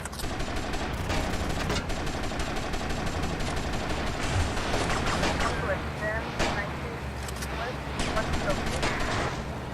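Rapid gunfire in the video game GTA Vice City crackles almost nonstop, dense bursts of shots layered over game noise and music at steady high loudness.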